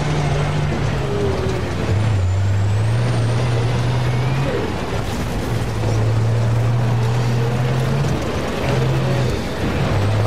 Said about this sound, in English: just driving a tank, shooting at some other tanks